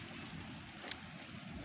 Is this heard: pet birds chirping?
no